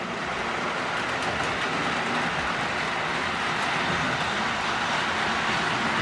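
A Lionel "The General" model train runs along its track with a steady, dense rushing rumble and faint rhythmic clatter, continuous and fairly loud throughout, no voices present.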